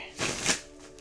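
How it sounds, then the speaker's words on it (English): Tarot cards shuffled in a brief papery riffle lasting about half a second, fairly close and moderately loud over a faint steady hum, no talking. "Let's get a shuffle."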